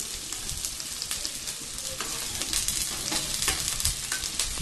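Finely chopped onions and three or four chilies fry in a pan, giving a dense, steady sizzle close up with occasional scraping from stirring, and no voices.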